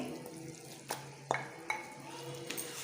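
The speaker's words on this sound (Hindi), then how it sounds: "कीमे को मसाले के साथ इतना भून लेना है कि इसका कलर चेंज हो जाए" Minced mutton qeema, marinated and tossed into a fried spice masala, sizzles steadily in a pan while a spoon stirs it, giving a few sharp clinks against the metal.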